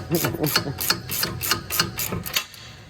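A ratchet wrench tightening long front brake bolts on a 2014-2018 Infiniti Q50, a rapid run of evenly spaced ratcheting clicks close up, mixed with someone talking.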